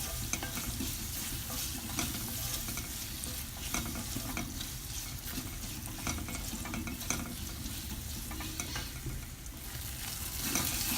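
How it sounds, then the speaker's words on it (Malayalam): Steady sizzling and stirring as egg Mughlai masala with tomato sautés in a pan, a continuous dense frying hiss with scraping strokes, no talk. "നന്നായിട്ടൊന്ന് വഴറ്റണം"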